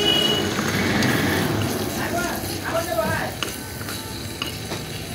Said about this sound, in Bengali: দেখো ভাজা করছি আমি।